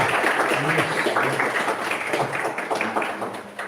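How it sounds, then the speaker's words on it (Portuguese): Church congregation clapping together, a steady dense wash of applause filling the room and fading slightly toward the end. "Uma salva de palmas para Jesus."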